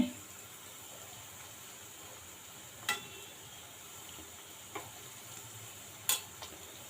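Karachi rava sweets frying in a pan give off a faint, steady sizzle, broken by a few sharp clicks as the pieces are turned.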